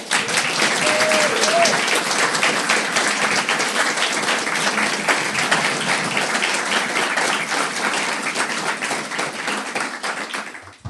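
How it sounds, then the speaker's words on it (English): Sustained audience applause at a libertarian talk, a dense, even wash of many hands clapping that holds for about ten seconds and only tapers slightly at the end. "give a big round of applause"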